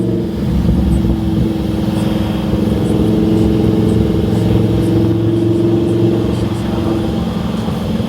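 A convertible car drives with its top down, a loud steady roar of engine and wind buffeting filling the whole stretch without letup.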